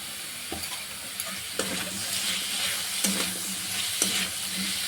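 Chopped onion tossed into potatoes frying in a pan for a Moglai porota filling: a steady, close sizzle broken by a few scraping, tapping stirs of a utensil against the pan.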